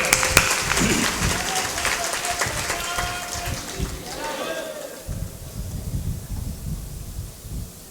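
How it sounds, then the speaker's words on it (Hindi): Audience applause at a Guru Purnima religious gathering in Kota, Rajasthan, a dense spread of clapping from a crowd that thins and fades out, with a voice speaking over it. "ताली बजा दो।"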